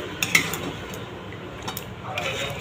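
Chicken pieces frying with spices in a pan for a Bengali chicken curry, a steady soft sizzle with several light clinks of a metal spoon against the pan, close by and without talk.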